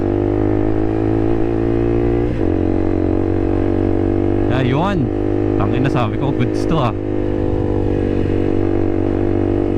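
A loud KTM RC200 motorcycle with an SC Project aftermarket exhaust idles with a throaty rumble, then revs sharply several times in quick bursts, while someone talks close by over the engine.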